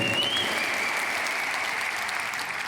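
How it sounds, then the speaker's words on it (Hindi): Steady, dense applause from a large audience at the Amway Star Award 2023 event, honouring Baljit, a continuous roar of many hands clapping at even volume with a faint high whistle near the start and no speech. "जोरदार ताली बलजीत के लिए"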